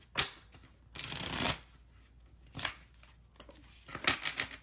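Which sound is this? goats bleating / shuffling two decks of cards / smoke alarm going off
shuffling two decks of cards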